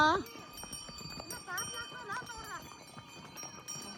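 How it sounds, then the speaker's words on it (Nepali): Horse hooves clop slowly and unevenly on a path on the way to Muktinath, Nepal, while people talk nearby over a steady background. "अगाडि जान्छ घोडा बिस्तारी हिँड तिमी"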